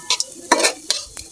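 Beef kebabs frying in a pan, with a few short bursts of sizzle and scraping as pieces are stirred and turned, close and fairly loud, separated by brief pauses.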